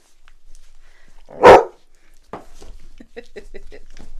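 A puppy lets out one loud, short howling cry, followed by a series of fainter, rapid yips and whimpers close by.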